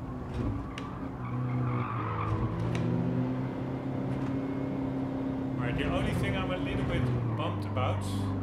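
Tires squeal and skid under hard braking of a front-wheel-drive race car in Gran Turismo 7, a sustained screech over a droning engine, with a voice speaking throughout.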